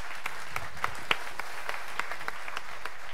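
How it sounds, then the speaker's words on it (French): Scattered audience applause at a French speedrunning event, the Stunfest gaming festival, a thin patter of individual claps heard fairly faint and spread out rather than a full roar. "Encore une fois, applaudissements pour Millet!"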